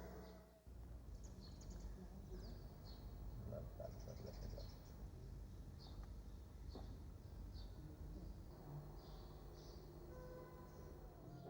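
Small birds chirp in short scattered bursts through a quiet, echoing old stone religious school in Cairo, the calls faint and distant over a low steady room hum.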